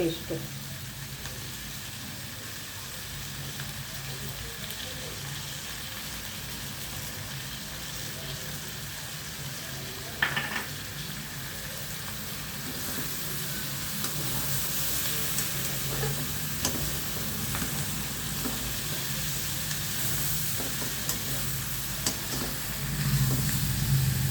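Mutton cooks in hot oil with ginger paste in a pan, a steady close sizzle and hiss that runs throughout, with a few stirring scrapes.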